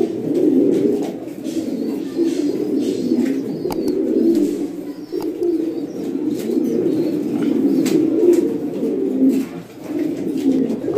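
Fancy pigeons at an imported-breed pigeon farm, a dense chorus of continuous low cooing from many birds close by, with occasional wing flaps and clicks and no speech.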